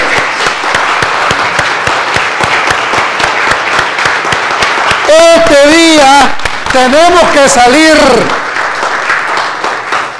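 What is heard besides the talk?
congregation applause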